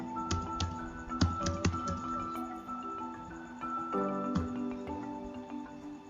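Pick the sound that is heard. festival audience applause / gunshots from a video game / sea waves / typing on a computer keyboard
typing on a computer keyboard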